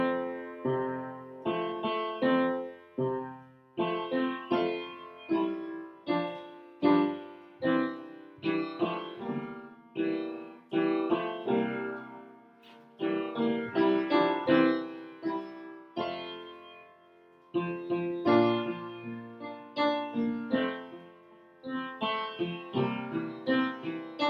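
One part of a Brahms' Lullaby duet played alone in a gentle, steady melodic line of separate notes at moderate volume across the whole stretch.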